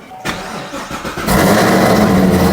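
A 2018 Camaro ZL1 fitted with a flex fuel kit cranks briefly, then fires up and settles into a loud, steady idle close by.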